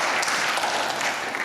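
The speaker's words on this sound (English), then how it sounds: "let's give another round of applause for Nathan." Audience at a software engineering conference session applauding, a brief, steady burst of many hands clapping in a hall.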